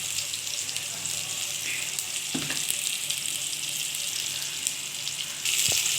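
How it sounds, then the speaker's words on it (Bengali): Chhana bora fry with spices in a pan, giving a steady, close sizzle with light crackle throughout and a brief stirring clatter partway through. "এটা ভালো করে ভাজা করে নিচ্ছি"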